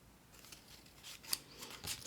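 Scissors snipping through patterned paper while trimming pieces for a handmade Halloween card, a few quiet close cuts in a short run with no talking.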